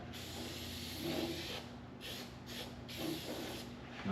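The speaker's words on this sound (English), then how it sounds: "Spray that in." Aerosol spray hissing into the rocker panel of a 1964 Chevelle Malibu SS during repair, a steady broadband hiss with a few slightly louder bursts, close and continuous.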